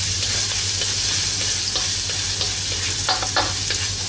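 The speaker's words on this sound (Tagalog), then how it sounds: "Magsatay na tayo ng garlic." Garlic sautéing in hot oil, a loud, close, constant sizzle broken by short crackles and stirring scrapes, with no voices.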